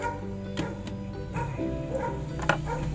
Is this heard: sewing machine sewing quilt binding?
no